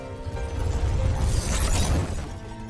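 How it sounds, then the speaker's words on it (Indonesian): A loud crash of breaking glass, a dense crunching burst with rumbling underneath, lasting a couple of seconds. "retakan kaca di bawahnya hancur sehingga membuatnya terjatuh ke lantai bawah"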